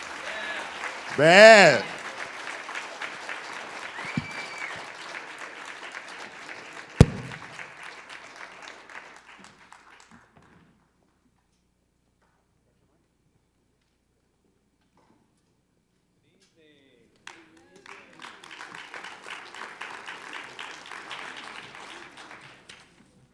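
An audience at a New School event applauds after a performance by two brothers. A short voice comes first, then moderate clapping fades out, a stretch of near silence follows, and the applause starts again.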